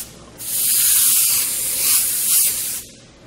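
An airbrush sprays paint through a stencil, giving a steady, close hiss that starts abruptly, holds with slight swells for under three seconds, then cuts off.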